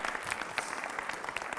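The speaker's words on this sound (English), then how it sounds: "Give them a round of applause." Audience applause fills a high school assembly, a steady patter of many hands clapping at moderate loudness through the whole stretch with no voices over it.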